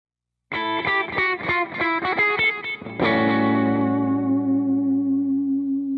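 A twangy rockabilly electric guitar ending lick with slapback echo: a quick run of choppy notes, then a final chord left ringing out for several seconds.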